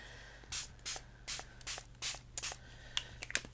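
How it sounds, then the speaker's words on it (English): Short hissing bursts from a spray can spraying paint onto paper, about six in an even rhythm, followed by a few faint taps and rustles. "just give it another bit of a spray"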